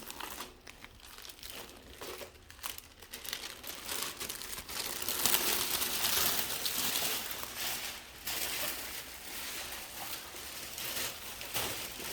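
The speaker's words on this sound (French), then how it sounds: "Donc je déballe avec vous, ça fait longtemps que je n'ai pas utilisé ce genre de feuilles." Plastic pattern sheets for sewing are unwrapped from their packaging, giving a long run of close, busy crinkling and rustling with sharper crackles, steady and loud with no voices.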